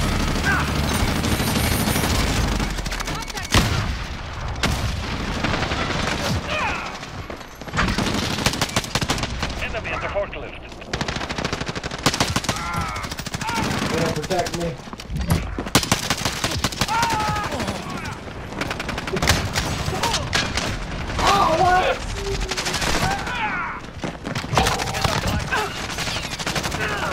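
Gunfire in Modern Warfare multiplayer: rapid bursts and single shots crackle almost nonstop over a dense, loud battle mix, with voices talking now and then.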